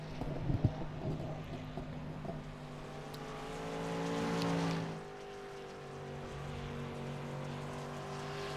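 Dirt late model race cars circle the USA Speedway track at a distance, engines droning and swelling as they pass, moderately faint and continuous with no talk.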